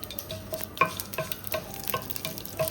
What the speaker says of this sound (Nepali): 7वटा जति सुकेको खुर्सानी हालेर केही बेर भुट्नु पर्ने हुन्छ